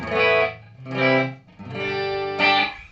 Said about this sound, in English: so maybe it is all digital delays, primarily with different delay or time ranges